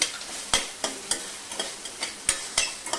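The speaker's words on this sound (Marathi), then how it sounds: "एक दोन मिनटं टोमॅटो छान परतून घ्यायचे" Chopped tomatoes with salt are stirred in a pan, a spatula knocking and scraping in a regular rhythm of distinct strokes over a soft, steady sauté sizzle.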